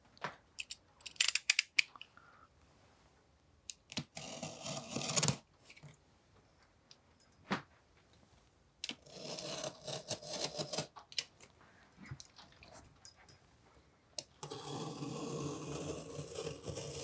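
A box holding a Sgt. Pepper's master audio tape being opened, with bursts of cardboard scraping, tearing and rustling in irregular spurts, close and alone with no talk.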